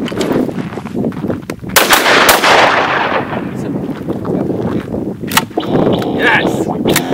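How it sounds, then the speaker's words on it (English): Gunfire at an outdoor shooting range with Tannerite targets: several sharp, loud reports with echoing tails, one big booming blast around the middle, and scattered cracks after. "come out to the range and do some shooting"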